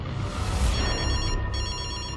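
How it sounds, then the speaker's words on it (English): A telephone rings in a tense thriller trailer, a steady electronic ringing tone that carries on over low background music with no voices. "Hey, Emma, Craven's phone"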